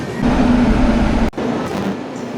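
Train rumbling in on the adjacent track, heard from aboard the Okha–Ernakulam Express, a loud close rolling roar with a low hum that breaks sharply halfway, then continues slightly softer.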